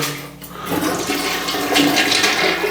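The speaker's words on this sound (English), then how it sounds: "Flush the toilet." A toilet flushes in a laundry-room bathroom with a clogged drain line, a steady loud rush of swirling water lasting a few seconds, heard close and alone.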